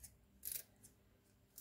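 Scissors snip fresh parsley stems in a kitchen, a few quiet crisp cuts spaced apart with no talking.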